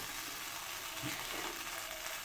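Sandwich toasting in butter in a kadai (vegetable sandwich, street style), a steady close frying sizzle that stays even and unbroken throughout, with no voices.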